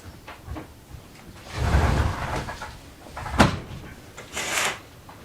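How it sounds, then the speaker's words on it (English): A patio door slides and closes during a home yoga session, with a low rumbling slide followed by a sharp knock and a softer latch sound, fairly near and with no talk. "I close the patio door"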